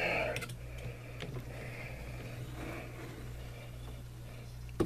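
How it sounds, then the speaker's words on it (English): A knife scores through a Kydex sheet on a cutting board with a few sharp scraping and ticking strokes over a low background hum, close and fairly quiet. "And you'll just take this knife and cut."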